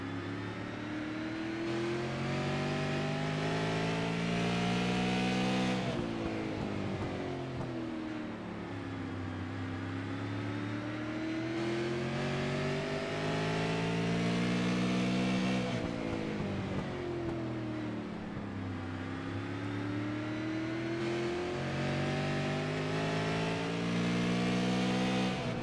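A pack of Super Late Model stock cars thunders around Martinsville Speedway, engines roaring continuously and loud, with pitch rising and falling in repeated waves as the cars accelerate out of the turns and pass close by.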